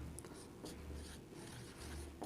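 Steady scratching strokes of writing on a board or paper during a 9th-class physics lesson on the third equation of motion, continuous and close with brief pauses between strokes and no voices.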